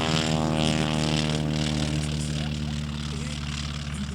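A propeller aircraft engine drones steadily at close range at Issoire Le Broc aerodrome, a low humming tone with a buzzing whir as the banner-towing plane taxis along the ground after landing.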